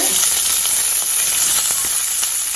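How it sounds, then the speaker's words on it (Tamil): Onion, ginger, green chili and curry leaves sautéing in a pan, with a steady, loud, close sizzle and faint stirring throughout. "வெங்காயம் இஞ்சி வெங்காயம் பச்சை மிளகா இஞ்சி கருவேப்பிலை போட்டு வதக்கிட்டுருக்கு"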